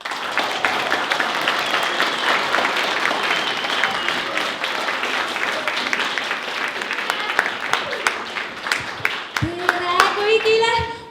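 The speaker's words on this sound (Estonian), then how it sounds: "teeme ühe aplausi ja siis ta kohe tuleb" A school Mother's Day event audience, children among them, claps for a guest in a lively, continuous burst of applause, with voices rising near the end as the clapping continues.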